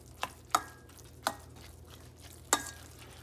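Chicken being mixed with saffron and yogurt in a bowl, four or five separate knocks of a utensil against the bowl at an uneven pace, close and fairly quiet, with no talking.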